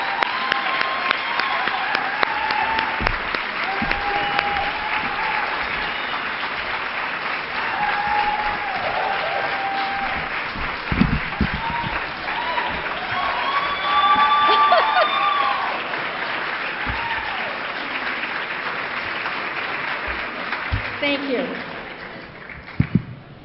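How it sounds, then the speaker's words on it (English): A crowd applauds steadily for over twenty seconds, dense clapping filling the room with a few voices and cheers rising midway. "Please give everyone, or give Candy an applause."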